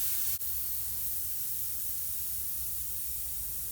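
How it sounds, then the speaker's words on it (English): Air hisses steadily out of a tubeless bicycle tire valve during a tire replacement, a loud broadband rush that is near and continuous after a brief dip at the start, with no one talking. "So the first thing you want to do is take the air out."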